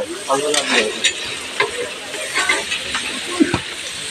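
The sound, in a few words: stirring prasad frying in a large pot at an ashram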